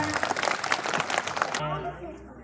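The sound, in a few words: applause at a school flag ceremony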